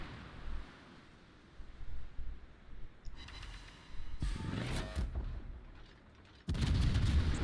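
A tank in a video game fires HE shells: distant booms and rumbling blasts, rather faint at first, building to heavier, louder impacts. The final blast near the end is the strongest, and no one talks.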